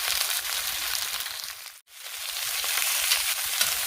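Pork ribs fry in oil in a wok with a dense, even sizzle that cuts out briefly midway as the pieces are turned, then resumes just as loud.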